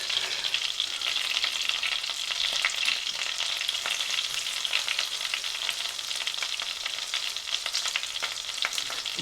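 Halved garlic cloves frying in hot oil in a pan for a potato side dish, a steady close hiss and crackle of sizzling that runs unbroken throughout, with faint stirring and no voices.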